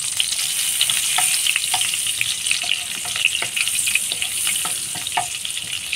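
Two green cardamom pods and two bay leaves sizzling in a large spoonful of butter for black pepper chicken: a loud, steady, close frying hiss dotted with small pops and crackles, no speech.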